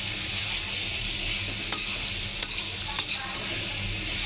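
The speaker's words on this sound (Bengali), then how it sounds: "এই যে কষাইতেছি, ভালো করে কষাইতেছি" Papaya and hilsa fish curry sizzles steadily in a pan as it is sautéed, a continuous close frying hiss broken by a few sharp stirring clicks and no voices.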